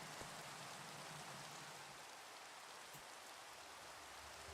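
Steady rain in the Minecraft video game falls as a constant soft hiss of drops, even and unbroken, with no voices.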